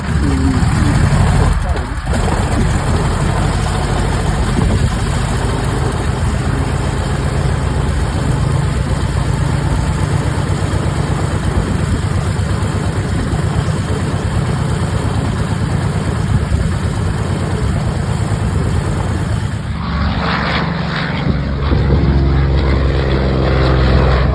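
An FG-1D Corsair warbird at an air show runs its piston engine with a loud, steady propeller roar that holds for most of the stretch before easing back near the end.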